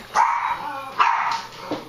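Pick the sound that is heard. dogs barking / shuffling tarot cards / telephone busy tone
dogs barking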